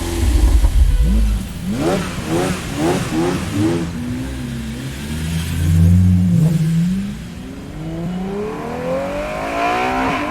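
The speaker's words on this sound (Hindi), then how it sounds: "ये सुनकर कबीर ने तुरंत खुद को संभाला और गाड़ी स्टार्ट कर दी।" A car engine starts with a loud burst, then revs through several rising and falling pulls before settling and accelerating away with a climbing drone, close and prominent throughout.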